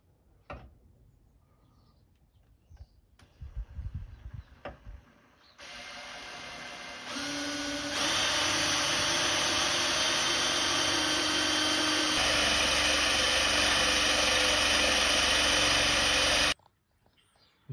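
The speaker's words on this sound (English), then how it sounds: "I'm going to show on the video me going up in different drill steps, so you can see me actually over time making the hole bigger and wider" Power drill on a Nissan 350Z bonnet, stepping up through bit sizes to widen a hole for a riv nut; after a few faint knocks, a loud steady whine starts and rises in pitch, running continuously for about ten seconds before stopping.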